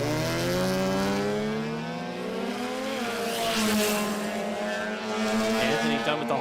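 A 1974 Mazda RX2 with a 13B rotary engine drag racing down the strip, its high buzzing rotary wail climbing through gears, loud and sustained, mixed with another car's engine and track announcer commentary.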